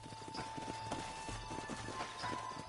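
Horse hooves clip-clopping in a video game, a steady rhythmic trot of several horses up close, with faint tones and ambience behind.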